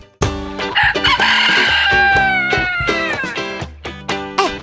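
A loud, drawn-out rooster crow rises and trails off over busy background music with a steady beat.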